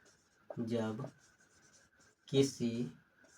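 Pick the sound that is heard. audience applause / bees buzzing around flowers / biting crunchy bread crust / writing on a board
writing on a board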